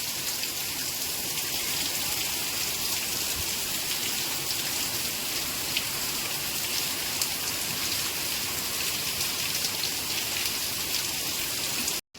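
Heavy downpour in rural Gujarat with strong wind, a dense, steady roar of rain hitting surfaces that stays loud and unbroken for the whole stretch, with no voices.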